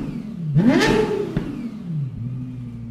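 A Lexus LFA's 4.8-litre V10 with a Yamaha-designed exhaust revs sharply to a high, shrieking peak, then falls back and settles into a lower idle. The sound is close and loud, with no voices.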